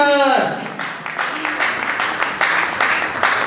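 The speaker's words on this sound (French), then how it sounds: "est-ce qu'on peut applaudir pour le Raïs Kabangi qui vient?" Audience at a staged show breaks into scattered, building applause for an arriving guest, Raïs Kabangi, as a sustained voice or tone fades at the start; rapid claps continue steadily with speech mixed underneath.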